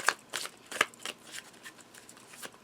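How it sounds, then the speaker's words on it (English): Oracle cards are shuffled and pulled, giving a few quick papery riffles and slaps with short pauses between them, close and fairly quiet, with no talk. "I'm going to pull a few of these cards"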